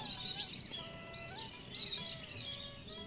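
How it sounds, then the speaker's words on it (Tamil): Sparrows chirp outdoors in the evening around a natural open-air kitchen, with a steady layer of high twittering calls from several birds over a faint background, with no speech. "குருவிகளுடைய சவுண்டு மயிலோட சவுண்டு சுற்றி இருக்கக்கூடிய அத்தனை சவுண்டுகள் அப்படியே கவர் ஆகிற மாதிரி"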